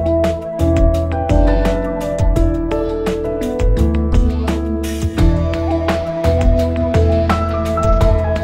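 Retro chip-style game sound for losing, recorded from an old sound chip, a busy run of bright synthetic tones and sharp blips playing steadily and loudly for several seconds with no talk.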